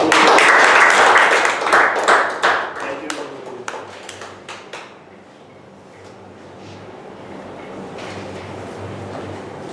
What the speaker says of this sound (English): we should applaud Mohammed Razik for completing the project